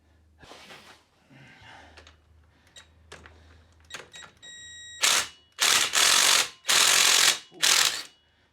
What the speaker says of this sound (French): heureusement que j'ai pris la clé à choc